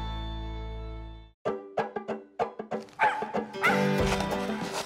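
Mountain Feist hunting dog barking excitedly while squirrel hunting in the woods, giving a quick irregular run of sharp yips and barks after a steady droning tone, close and loud.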